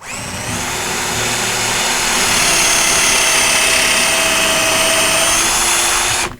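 A loud, close power drill bores a hole, whirring steadily for several seconds, a high continuous whine with no pauses, then cuts off abruptly.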